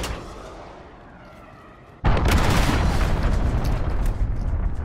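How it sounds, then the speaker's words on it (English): A cruise missile strike in the Call of Duty: Modern Warfare shooter erupts after a quiet, low rumbling lead-in: one sudden heavy blast followed by a loud, sustained roar of debris and noise that does not fade. "Enemy cruise missile, take cover."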